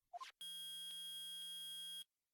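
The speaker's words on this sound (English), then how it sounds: "It's beeping! The metal detector's found something!" A loud, steady electronic beep from a video game metal detector holds for about a second and a half after a short rising blip, then cuts off into silence.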